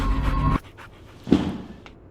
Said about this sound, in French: Oh, le petit chien, il est trop cute.